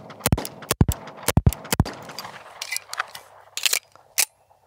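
Sharp metallic clicks and clacks from a slide-lock reload of a Sig X Series 1911 pistol: several crisp snaps in quick succession, then scattered lighter handling clicks and a final hard snap, close and alone.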